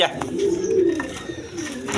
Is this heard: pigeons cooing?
yes